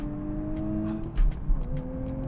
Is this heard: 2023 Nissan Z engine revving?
yes